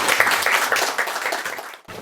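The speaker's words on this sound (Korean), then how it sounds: "박수." A lecture audience at a university mentoring talk on AI and semiconductors claps after a speaker's answer, a brief burst of moderately close applause that fades out quickly.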